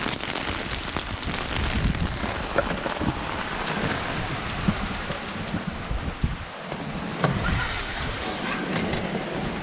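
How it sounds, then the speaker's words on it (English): Steady rain patters on a roof, a dense, continuous wash of drops with occasional sharper taps and no voices. "Rain on the roof."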